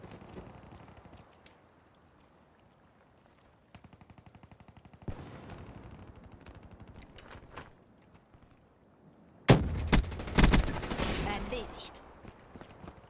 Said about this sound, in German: Geschossen.